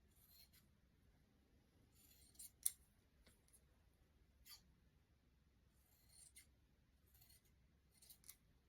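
Scissors cut interfacing into thin strips with sharp, crisp snips spaced irregularly in short bursts, close and quiet against a near-silent background, and no one talks.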